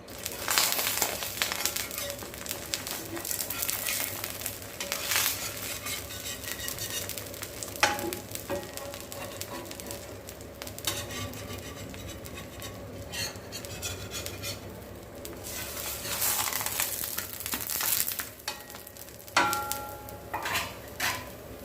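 A pesarattu dosa of green gram and red rice batter frying on a pan with oil drizzled around its edge, loud steady sizzling with intermittent spatula scrapes and metallic clinks.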